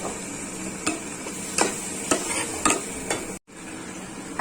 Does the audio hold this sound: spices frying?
yes